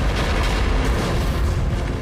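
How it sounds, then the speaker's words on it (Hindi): Bombs on a boat blow up after spilled kerosene catches fire in the action movie Anaconda, a dense, loud roar of explosion and burning that fills the whole stretch without letting up, with no talk. "एक भयानक धमाके ने पूरी बोट को हिलाकर रख दिया"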